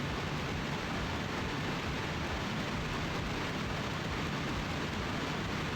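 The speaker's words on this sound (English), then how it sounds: "You actually hear the rain too." Rain falls steadily in the Ace Combat X: Skies of Deception flight video game, a constant dense hiss with no talking.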